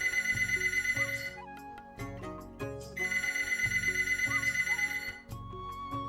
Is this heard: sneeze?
no